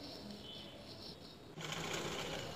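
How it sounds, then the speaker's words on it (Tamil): A sewing machine runs a side seam on a petticoat frock, its fast, even whirring buzz close and steady, picking up slightly louder and denser partway through. "அதிலேருந்து அப்படியே ஒரு தையல் சைடு மேலேருந்து கீழே வரைக்கும் தையல் போட்டு எடுத்துட வேண்டியதான்"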